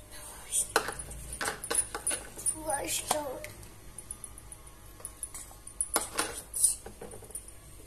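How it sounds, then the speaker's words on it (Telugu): Custard mixture is poured into boiled milk and stirred in a pan; scattered metallic clinks and scrapes of a spoon sound close by while someone talks. "పోసుకొని ఇలా కలుపుకోవాలి"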